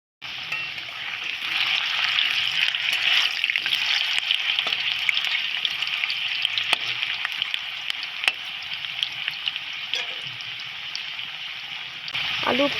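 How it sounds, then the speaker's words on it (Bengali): Potatoes fry steadily in hot oil in a pan for a home-style chicken dish, a continuous loud sizzle with occasional sharp crackles and utensil clicks throughout. "এবার আলুগুলো খুব ভালোভাবে ভেজে নিতে হবে।"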